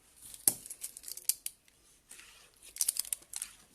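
Scissors cutting glittery paper for a handmade card, several sharp close snips and crinkles in uneven bursts with quiet pauses between.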